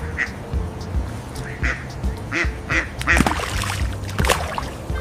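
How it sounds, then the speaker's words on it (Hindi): A duck quacks repeatedly in short, evenly spaced calls over a light background murmur, fairly close and moderately loud. "डक को हिंदी में बतख कहते हैं।"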